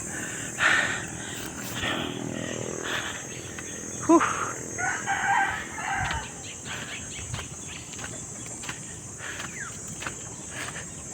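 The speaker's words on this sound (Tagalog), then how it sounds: "may mga manok pa dyan, narinig ko" Rooster crows and chicken clucks rise near houses along a muddy morning path, fairly distant, over a steady hum of insects and faint rustling.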